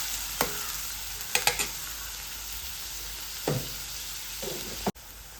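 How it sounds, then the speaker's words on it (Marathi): Onion and green chilli softening in a pan, a faint, steady sizzle broken by a few sparse scrapes and taps from a spatula, with no voices. "फक्त मऊसर होईपर्यंत परतून द्यायचा आहे."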